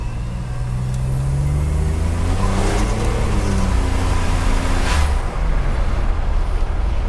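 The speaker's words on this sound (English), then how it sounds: "Listen to the turbo." A turbocharged 1987 Buick Grand National runs loud and close inside the car, its engine drone steady throughout with a rising turbo whistle as revs climb, then easing off near the end.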